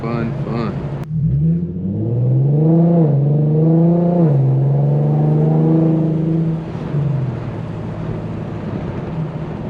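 A tuned E85 Infiniti Q50 on a night drive accelerates hard, its engine note climbing in pitch through a rev, easing, then rising again before settling back to a steady cruise hum.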